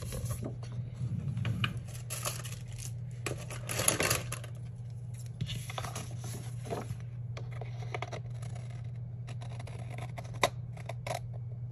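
Scissors trim paper during a planner-decorating session, making quiet snips and crisp paper rustles. A low steady hum sits under the cutting, and no one speaks.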